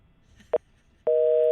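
A local telephone call being placed, with a short tone burst followed by a steady, loud two-tone signal that holds unbroken, like a busy or reorder signal on the line.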